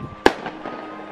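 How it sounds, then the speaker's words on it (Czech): A single sharp firework bang bursts out in Albania, loud and close, followed by a fading crackling rumble with no talk. "A máme to tady ještě s ohňostroji"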